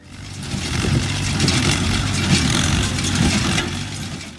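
Allis-Chalmers D14 tractor engine running steadily at a fairly loud, close range, a dense low rumble with a rough mechanical rattle on top and no pauses.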